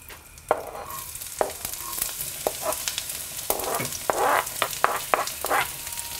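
Onions sizzle and crackle as they fry in butter in a hot pan, with frequent stirring scrapes and pops, close and steady.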